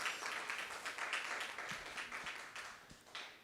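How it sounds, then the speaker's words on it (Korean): A church audience gives a burst of applause for a visiting professor after his speech. Many hands clap together in a dense, moderately distant patter that swells and then slowly fades over a few seconds. "좋은 연설로 우리 교회를 도와주신 박 교수님께 다시 한번 힘찬 박수"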